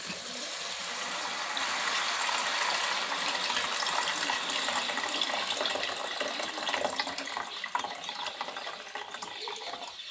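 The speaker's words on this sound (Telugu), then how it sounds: "చింతపండు మంచిగా పిసికిన ఇప్పుడు వేసేసుకుందాం చింతనీళ్ళు" Continuous splashing gush of tamarind water being poured into a cooking pot, steady and fairly close, with no voices.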